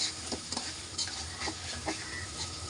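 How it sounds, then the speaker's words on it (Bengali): Prawns frying in a pan, a quiet continuous sizzle with repeated stirring scrapes and light clinks of a spoon against the pan, close and without talk. "চিংড়ি মাছগুলো ভেজে নিবে"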